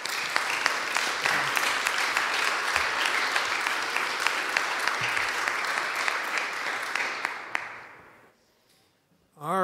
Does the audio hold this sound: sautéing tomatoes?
no